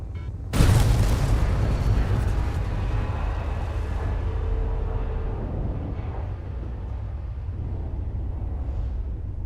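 A single huge explosion from blowing things up in a video game bursts loudly near the start, then settles into a long, dense rumbling decay that lingers for several seconds.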